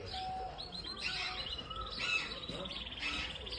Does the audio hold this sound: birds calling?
yes